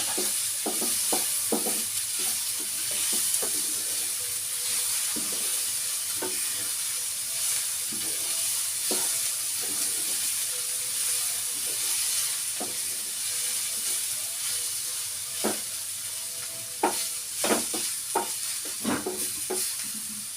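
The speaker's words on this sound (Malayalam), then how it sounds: "ഇളക്കി കൊടുക്കാം." Food sizzles and hisses steadily in a frying pan while a utensil stirs it, with intermittent scraping and clinking against the pan throughout, close and alone without talk.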